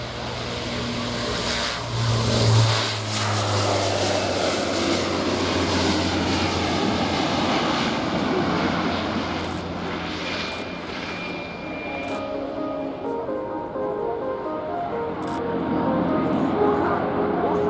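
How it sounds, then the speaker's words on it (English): An F-16 Viper jet makes a high-performance takeoff at the Royal International Air Tattoo air show, a loud sustained roaring jet engine that holds throughout, with a commentator talking over it. "And here she comes with a high performance takeoff, followed then by a Viper climb."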